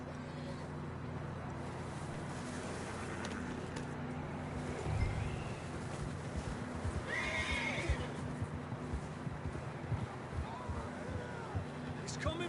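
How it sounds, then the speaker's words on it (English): Horses in the Red Dead Redemption 2 video game, a whinny and a few clopping hooves over a steady rumbling outdoor ambience, with voices speaking. "I don't think we can go much further on the horses."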